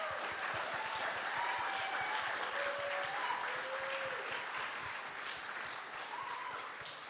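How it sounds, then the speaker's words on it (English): Dense, sustained audience applause at a full moon ceremony, thanking the staff, filling the room evenly and slowly easing off, with faint voices heard through it. "Let's give them a round of applause."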